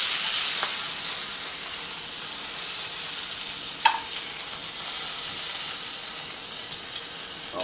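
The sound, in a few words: queen fish fillets searing in a pan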